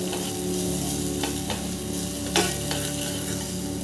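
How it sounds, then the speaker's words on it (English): Quinoa sizzles in a little olive oil while being stirred in a pan: a continuous close frying hiss with a few brief scraping clicks, heard alone without talk. "Can you hear a quinoa?"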